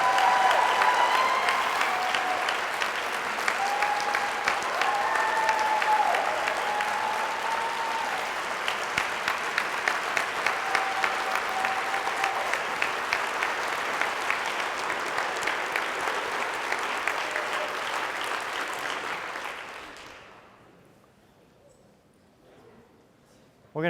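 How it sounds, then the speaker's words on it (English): A conference audience at CPSH 2016 gives sustained, steady applause for about twenty seconds, dense clapping filling the room before it fades quickly to near silence. "One last round of applause."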